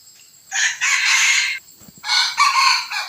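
A young yellow rooster, a three-to-four-month-old fighting cock hybrid, crows nearby in two loud, drawn-out bursts with a short gap between them.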